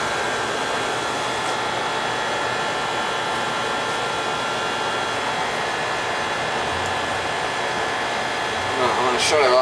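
A gas furnace running after being submerged under about four feet of floodwater, giving a steady, continuous blower-like roar that holds level throughout with a slight rise at the end.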